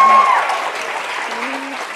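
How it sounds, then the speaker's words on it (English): A launch-event crowd gives Craig another round of applause, a loud, even wash of clapping that tapers slightly, with brief tonal sounds and a hint of voice underneath. "Can we give Craig one more round of applause?"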